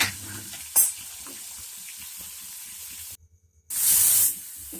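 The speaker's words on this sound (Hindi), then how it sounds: "प्याज को हम अच्छी तरीके से भून लेंगे।" Onion paste frying in a pan, a steady close sizzle and hiss with brief louder spray-like bursts and a short quiet gap, no talking.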